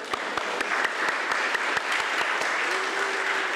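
Applause from an audience for student performers at a senior thesis recital on microtonal singing; a broad patter of clapping with distinct nearby claps ticking out every so often and a brief voice or tone near the end.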